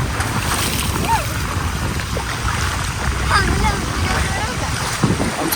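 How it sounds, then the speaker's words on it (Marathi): Splashing water and rushing wind surround a passenger boat ride from Mumbai to Alibaug, with a continuous churning wash and engine rumble close by, while people talk and shout over it. "पाणी उडवते."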